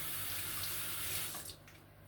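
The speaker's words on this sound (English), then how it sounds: "Gonna wash my hands real fast." Water pours steadily from a kitchen sink faucet as hands are washed, a continuous close hiss that thins toward the end, with no talk.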